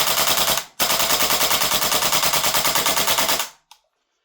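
A WellPro AK12 gas blowback airsoft rifle dumps a magazine on full auto: a loud, rapid, unbroken burst of shots, a brief pause, then another sustained burst that cuts off with one final pop.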